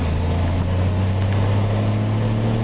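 A 1953 Ford F-100 pickup's original six-cylinder engine runs while driving, a steady loud low drone with a constant deep hum and no change in pace, heard from inside the cab.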